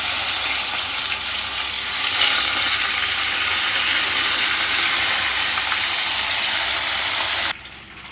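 Fish pieces frying in hot oil in a pan give a loud, steady sizzle and crackle that holds for several seconds, then drops off suddenly near the end.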